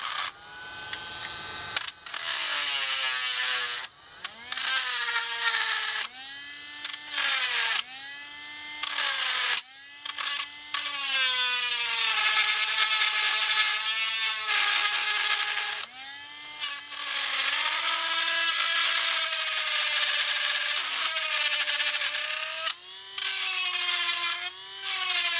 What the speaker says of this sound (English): I'm going to grab my Dremel. I'm going to start dremeling off the piece right there.